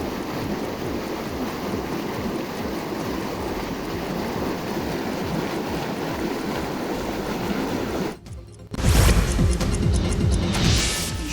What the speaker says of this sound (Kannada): ಪೈಪ್ ಒಡೆದು ನೀರು ಪೋಲಾಗ್ತಾ ಇದೆ